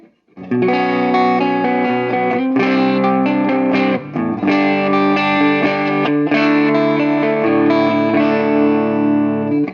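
Distorted electric guitar, an affordable ES-335-type semi-hollow on the neck pickup with flatwound strings, with a warm, rounded tone, sustained chords and held notes ringing out smoothly, loud and unaccompanied.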